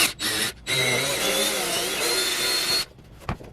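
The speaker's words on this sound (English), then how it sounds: "gotta make sure I drill this hole" A power drill whirs steadily for a few seconds, widening a hole in a Karcher K3 pressure washer, bracketed by brief stops and starts, close by with no talking.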